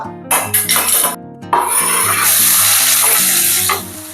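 Chopped onion hitting hot oil with bay leaf and a pinch of asafoetida: a loud, hissing sizzle bursts up and holds steady for a couple of seconds before easing, heard close with scattered clinks beforehand.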